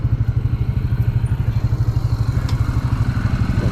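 A 125cc motorcycle idles close by in a steady, loud, even chug with a rapid regular pulse, with no voices over it.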